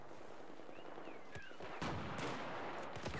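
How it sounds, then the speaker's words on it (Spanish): Grenades explode in Battlefield 4 combat, heavy booming bursts that hit loud and close among scattered gunfire cracks, with a dense, rumbling din that rises after the midpoint. "Granadas por todos lados"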